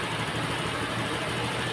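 A Honda Vario 125 scooter with a faulty idle runs steadily at close range, its engine holding an even, continuous drone throughout the short stretch.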